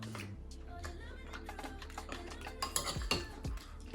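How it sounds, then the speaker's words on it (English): Ingredients for a vegan meal being mixed in a bowl, irregular clinks and scrapes of a utensil against the bowl, with a voice talking quietly in the background. "So now we just gonna mix up everything real good."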